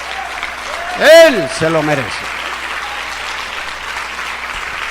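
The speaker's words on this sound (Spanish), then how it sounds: "Vamos a aplaudir." A church congregation claps steadily through a service while a voice rings out briefly over the dense, even patter of hands.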